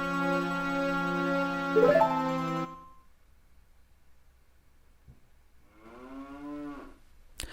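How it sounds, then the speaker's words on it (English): A cow mooing in The Legend of Zelda: Majora's Mask, two long drawn-out electronic moos, the first loud and close, the second softer after a quiet gap, with no talking over them. "Just the moo in the background"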